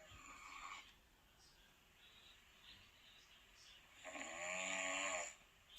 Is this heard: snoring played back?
yes